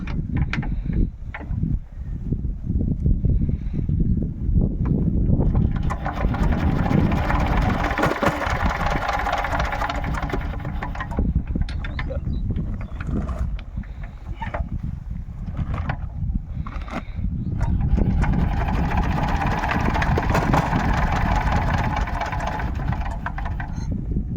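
A small motor in a rural paddy field starts and settles into a steady, loud idle, its chugging running continuously for the whole stretch with slight surges in level.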